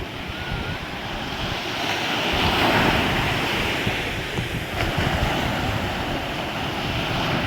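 Strong ocean surf pounds continuously at the Baler, Aurora surfing area, a loud, steady roar of breaking waves with gusting wind buffeting the microphone and a swell in intensity midway.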